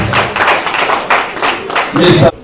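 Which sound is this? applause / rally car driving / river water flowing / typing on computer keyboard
applause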